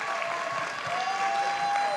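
An audience at a county school board meeting gives a big round of applause for teachers and paraprofessionals, dense, even clapping that fills the room without pause.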